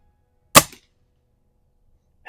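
Norica Omnia ZRS air rifle fired at an outdoor range, one sharp, close crack that decays quickly, then near silence before the start of a second sound at the very end.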